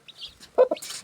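Newly hatched chicks chirp in short, high peeps, mixed with a couple of louder, lower clucking calls from a nearby hen, intermittent and fairly close with no talk.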